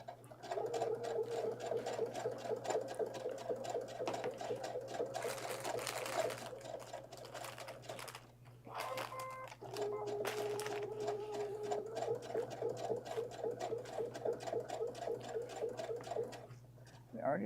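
A sewing machine zigzag-stitches over rope in fast rhythmic bursts close by, pausing briefly near the middle before running on steadily again, with no talk over it.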